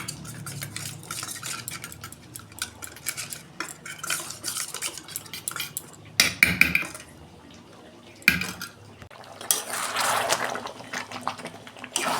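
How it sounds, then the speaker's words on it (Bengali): Everest chicken masala being stirred into a little water, with a spoon clinking and scraping against a metal bowl in quick close bursts, a few louder knocks and a splash of liquid near the end. "আমি অল্প জল দিয়ে গুলে দেবো মশলাটা"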